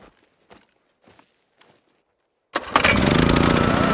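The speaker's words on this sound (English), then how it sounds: "Just stick a little fuel in the generator and fire it up." A generator in a video game outpost: a few quiet footsteps or fuelling knocks, then the engine catches with a sudden roar and settles into a loud, steady chugging run.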